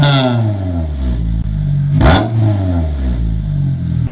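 Honda Integra exhaust fitted with a cheap eBay tip revs up close, a steady raspy idle climbing in pitch with one sharp blip near the middle, no talking.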